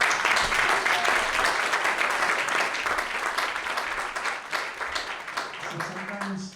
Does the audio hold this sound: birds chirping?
no